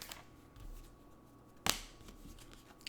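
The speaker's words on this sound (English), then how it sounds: "I'm going to keep shuffling because it kind of feels like I didn't have a good grip" Tarot cards being shuffled by hand give one sharp, bright riffle burst in the middle, set against a quiet room with faint low rumble before and after.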